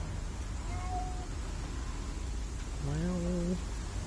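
A small cat meows in a video game, one short mew early and then a louder, longer meow near the end, both over a steady hiss of game ambience.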